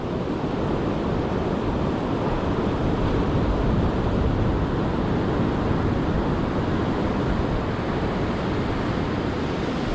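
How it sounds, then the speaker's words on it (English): Surf waves break and wash over a sandy beach while surf fishing, a continuous loud roar of crashing water with gusty wind noise on the microphone, no voices heard. "You can see the sand all being thrown up in the waves there"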